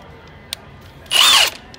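A 1/2 inch high torque cordless impact wrench in a mechanic's tool box fires a single short burst of about a third of a second after a faint click, nearby and alone.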